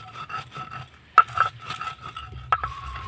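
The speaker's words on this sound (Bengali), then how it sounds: "দানা দানা করে বেটে নেব, এতে মশলাদার লাড্ডুটা খেতে ভালো লাগবে।" Spices and dried chilies are ground coarsely by hand, producing uneven scraping, rasping strokes with a few sharper knocks, close up and fairly quiet with no talk.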